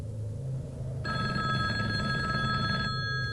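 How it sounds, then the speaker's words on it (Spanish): An old rotary telephone rings in a room, a steady bright bell ring lasting a couple of seconds over a low background hum. "Sonó el teléfono de la habitación."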